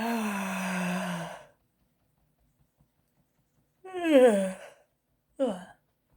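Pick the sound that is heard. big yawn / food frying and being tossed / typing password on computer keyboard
big yawn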